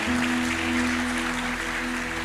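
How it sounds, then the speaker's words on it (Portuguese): A church congregation applauds during a sermon, a steady wash of many hands clapping over a sustained low musical hum of held organ or keyboard notes. "Vamos dar uma salva de palmas ao Senhor."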